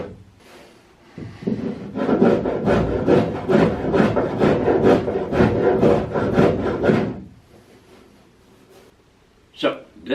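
Hand plane strokes shave a wooden boat's strakes in a quick series of rasping, scraping passes close by, followed by quieter handling and a couple of sharp knocks.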